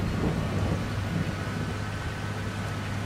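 Steady rain and a low thunder rumble fill a video game scene with a truck, a continuous broadband wash of moderate loudness with a deep undertone and no talking.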